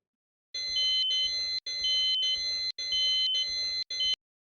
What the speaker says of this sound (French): ce qui va lancer le scénario numéro 2, une détection incendie en ERP